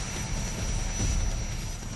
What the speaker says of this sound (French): 2 hélicoptères vont enchaîner les rotations pour transporter les militaires